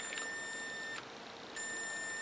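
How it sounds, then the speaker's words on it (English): Olympus XA camera battery check giving a steady high electronic beep that cuts out briefly and then resumes, fairly faint and close, with no talking over it. "Here's the battery check."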